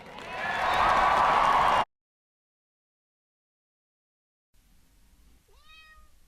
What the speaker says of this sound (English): Oh no, you can hear my cat.